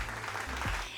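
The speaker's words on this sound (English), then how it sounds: "Can we just get a little applause?" A brief burst of applause sounds, steady and full for about a second.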